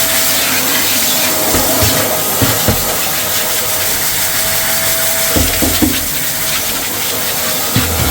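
A vacuum extractor draws cleaning solution off a glossy kitchen surface with a loud, constant wet hiss and suction roar, broken by brief gurgling bumps as the nozzle moves.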